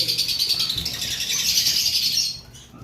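Pet birds in a seller's aviary chirp and tweet constantly, a dense, loud overlapping chorus of high calls that fades slightly at the end.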